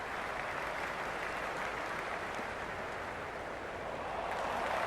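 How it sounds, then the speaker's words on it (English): A dense stadium crowd in a cricket video game roars and applauds in a continuous, even wash of cheering, heard from a distance with no other sounds. "There's an almost tangible fervour throughout the crowd at the moment."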